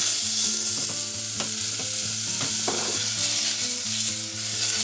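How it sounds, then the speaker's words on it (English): A knob of butter sizzles in a hot pan, a loud continuous frying crackle with a low bubbling hum beneath and a few brief clatters of a utensil. "firstly in with a knob of butter."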